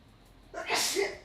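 A single close sneeze bursts out loudly after a quiet stretch of low background murmur in a room during live trading commentary, then trails off briefly.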